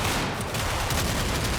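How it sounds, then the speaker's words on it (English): Gunfire from a firefight in the Combat Mission video game, a loud continuous rattle of bursts and shots filling the brief moment with no pause, close and dense. "we're able to win some very quick firefights"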